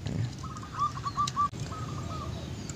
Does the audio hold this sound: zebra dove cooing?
yes